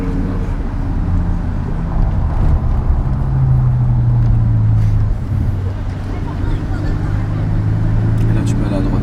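A BMW M5 with a V10 engine drives through Paris streets, its steady low engine drone running throughout with a rising tone near the middle, close and loud under ongoing conversation inside the car.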